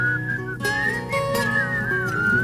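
Solo human whistling of the melody from a 1989 song, a clear, sustained, gliding tune heard alone without talk.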